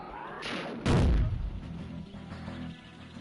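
Weapon fire in the Worms Armageddon video game: one heavy, booming blast bursts out loudly and then rumbles away into a fading tail.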